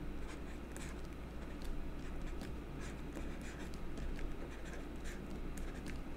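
Pen or pencil writing out a circle equation by hand, a steady scratchy stroking across paper with small taps, close and continuous over a low background hum.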